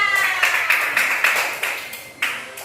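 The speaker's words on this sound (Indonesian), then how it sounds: "Tepuk tangan." A small group claps hands in a room, giving a series of sharp, evenly spaced bursts about every quarter second, close and fairly loud, with a final clap after a short pause.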